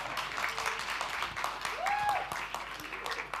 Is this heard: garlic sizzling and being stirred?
no